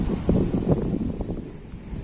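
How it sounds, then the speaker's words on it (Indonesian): Steady wind rushes and buffets a microphone out on the water during a fishing trip by boat, a low rumbling roar with gusty swells and faint splashy texture, continuous and fairly close, with no talking. "udah berangin-angin seperti ini ya"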